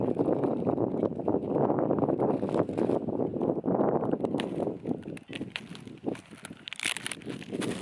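Gusty wind buffets a microphone outdoors, a steady low rumble that swells and drops for the whole span, with faint scattered knocks near the end.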